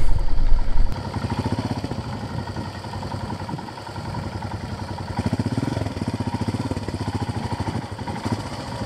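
Royal Enfield Himalayan motorcycle riding a grassy summer trail on the North Yorkshire Moors, its single-cylinder engine chugging steadily and close with rhythmic mid-range pulsing, a louder burst at the start and slight surges as the throttle changes.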